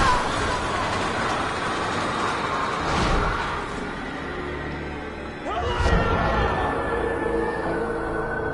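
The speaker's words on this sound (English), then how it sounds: "How you get hit by a train when you see two wide open sides" A train rushes through a Resident Evil 6 level, a loud rumbling roar with a heavy impact thump partway through, followed by continued rolling noise.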